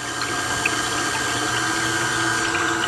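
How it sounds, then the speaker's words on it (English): A stand mixer fitted with a dough hook runs on pretzel roll dough of yeast and water, giving a steady, even motor whir with a faint liquid churn, constant and close. "I've got my dough hook. And I'm just going to mix it real quick just to kind of get it stirred up a little bit."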